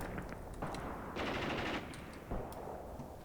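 Several bursts of machine gun fire in the Graviteam Tactics war game, short rattling volleys separated by brief gaps, fairly quiet and slightly distant, no talk.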